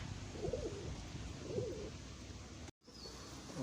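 A bird, likely a pigeon or dove, gives a few soft, low coos in two short phrases against a faint outdoor background hiss, fairly quiet and alone.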